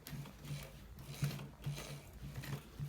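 A sewing machine stitches a designer shirt collar, running in a steady low mechanical hum with repeated rhythmic clicks of the needle mechanism, fairly quiet and close, with no talk.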